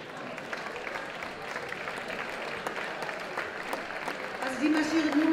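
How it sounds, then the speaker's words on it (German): Applause from a ball crowd greets dancers marching in at a dance school's Latin formation performance, a dense, steady wash of clapping that swells slightly toward the end while a voice talks over it. "die marschieren nur mit tobendem Applaus rein"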